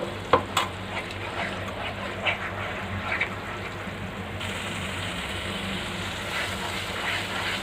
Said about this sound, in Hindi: अब मैं इसमें ये ब्राउन ऑनियन और दही का पेस्ट ऐड कर दूंगी और इसको भी थोड़ा सा भून लूँगी।